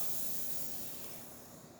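The steam wand of a Zacconi Baby Luso espresso machine, freshly serviced with a new boiler, lets out a loud, steady, continuous hiss up close that eases slightly toward the end.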